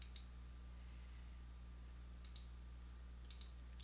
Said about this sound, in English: You're just clicking away.